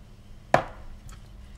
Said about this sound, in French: Je vais les couper et je vais râper mes carottes.